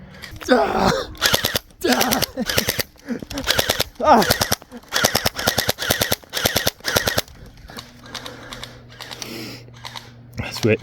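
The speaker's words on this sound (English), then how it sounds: "Switch to triple burst here." A toy gel blaster fires rapid bursts of shots in a close, loud, rattling rhythm, with a brief pause and then more bursts. Someone talks over the shots in places.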